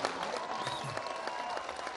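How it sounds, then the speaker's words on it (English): A crowd at President Obama's speech in Kogelo keeps up a continuous round of clapping, even and dense throughout, with faint cheers and voices underneath. "A round of applause, everybody."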